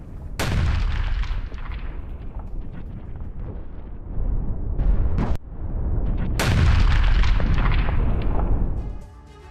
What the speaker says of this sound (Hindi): आईडीएफ ने दक्षिणी लेबनान में ये स्ट्राइक की है और उसके बाद कैसे चारों तरफ जोरदार विस्फोट होता है, धमाका होता है।